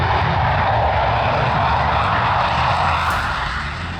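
An Indian Air Force jet performs a display at the Dubai Air Show, making a broad, steady roar overhead that fades slightly toward the end, with no voices.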